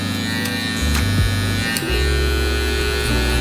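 Electric hair clippers with a 1-guard, lever open, buzz steadily while fading a long beard, a close, loud motor hum whose pitch shifts as the blade moves through hair, with no talk.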